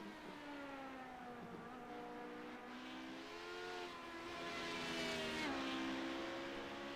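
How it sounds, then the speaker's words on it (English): LMP2 race cars in a sports car racing series flick through a chicane, heard as faint engine notes rising and dropping through gear changes as the cars brake and accelerate. "I love watching these LMP2s flick it through the chicane here"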